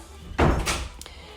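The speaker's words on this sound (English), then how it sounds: "Close my door, please." A door closes with a single thudding slam, followed by a short rattle and a faint click a moment later.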